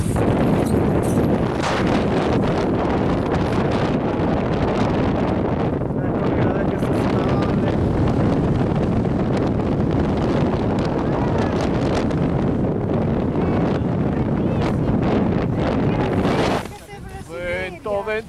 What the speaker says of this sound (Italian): Vento siberiano.